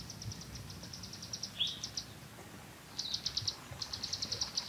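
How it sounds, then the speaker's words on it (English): Small birds chirp in rapid repeated trills along a Table Mountain hiking trail, two bursts separated by a pause, moderately close over a soft outdoor background with faint insect buzzing. "You can hear all of the birds and things like that."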